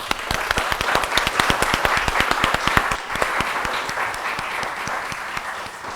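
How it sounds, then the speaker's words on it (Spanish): Workshop participants applaud, with sharp individual claps standing out in a quick rhythm over a fuller bed of clapping that thins slightly in the second half. "un aplauso para todos ustedes"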